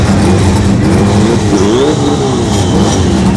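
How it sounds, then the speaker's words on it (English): A Norton Racing S10 and a Turbo B Civic race at the ShowTime Dragstrip test and tune, a loud, sustained engine roar with rising revving tones from the track, heard from nearby. "got the Norton Racing S10 and a Turbo B Civic"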